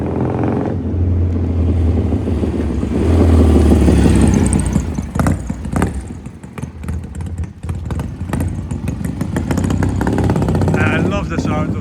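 Triton 650 café racer, a Triumph 650 engine in a Norton frame, runs loud and close with a steady rumbling beat that swells and blips with throttle before easing back, a voice talking over parts of it.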